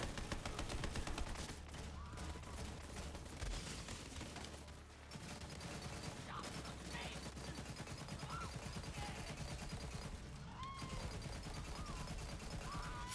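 Rapid gunfire and shotgun blasts in a first-person shooter video game, a dense continuous barrage of shots with scattered impacts running loud throughout, no speech.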